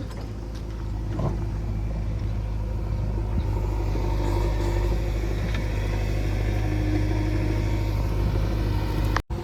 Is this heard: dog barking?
no